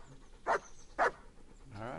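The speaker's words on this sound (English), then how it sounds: "come on, doggy. Come on, mutt." Dog barking in the medieval role-playing game Kingdom Come: Deliverance, two short sharp barks about half a second apart, followed by a brief whine.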